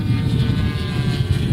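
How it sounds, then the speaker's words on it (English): A model plane with contra-rotating propellers in flight at a University of Washington AIAA design-build-fly contest, giving a loud, steady propeller drone with a low throbbing beat throughout. "That is the other thing that contra-rotating propellers are notorious for on real aircraft. They're actually pretty loud."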